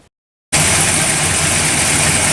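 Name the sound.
car engine idling after coil wiring fix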